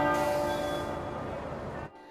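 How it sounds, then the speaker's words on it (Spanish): Church and cathedral bells ring out at noon across Britain with a lingering metallic hum that slowly fades before cutting off abruptly, somewhat distant and faint. "las campanas de iglesias y catedrales de toda Gran Bretaña resonaron al mediodía de hoy"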